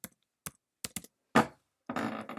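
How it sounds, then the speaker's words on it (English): A few separate keystrokes on a computer keyboard as a name is typed into a form, spaced out and crisp, followed by a longer, denser burst of clicking. "I'll go ahead and type my own name in."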